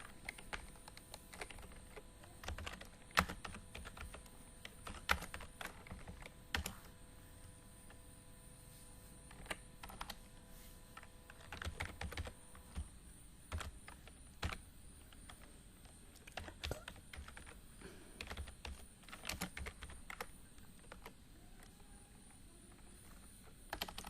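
Rapid, quiet keystrokes on a computer keyboard while Fortran code is typed, an irregular, continuous patter of soft clicks with brief pauses, heard close but faint.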